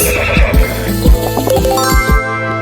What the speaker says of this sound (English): 7 horse